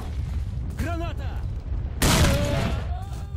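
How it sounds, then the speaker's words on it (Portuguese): A grenade goes off in Stalker: Shadow of Chornobyl, a single loud, close burst that crashes in sharply and rumbles as it fades, with players talking before and after. "Granada!"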